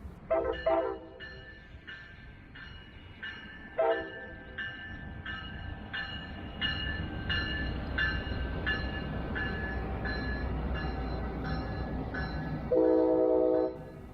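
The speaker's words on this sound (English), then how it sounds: "the train crew switched cabs, then came back south, also at a low speed." A Brightline test train rolls by at low speed, its horn sounding in a long series of repeated blasts over a low rumble of wheels, ending in one louder, closer horn burst.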